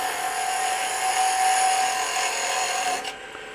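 A wood lathe spins a spalted candle stick while a tool takes a peeling cut, making a steady, loud whirring scrape that cuts off near the end.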